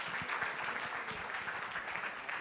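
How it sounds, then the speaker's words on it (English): Audience applause for Dr. Batra at a medical seminar, a steady, moderately loud wash of clapping from a room full of people, without talk over it. "big round of applause for Dr."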